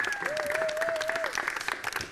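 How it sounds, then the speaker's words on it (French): An audience applauding to welcome an artist onstage at a Mauritius Broadcasting Corporation show, a brisk, steady round of clapping with a sustained whistle or tone rising above it partway through. "Applaudissez comme il se doit"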